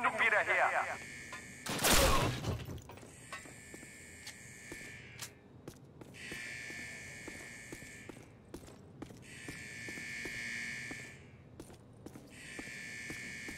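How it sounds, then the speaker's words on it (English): A harsh, pulsing alarm repeats in steady bursts during a Call of Duty Classic match on Xbox 360, sounding over gunfire and battle noise after a loud blast. "Alarm is so obnoxious."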